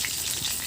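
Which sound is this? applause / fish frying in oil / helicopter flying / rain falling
fish frying in oil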